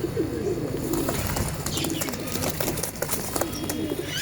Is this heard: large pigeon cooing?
yes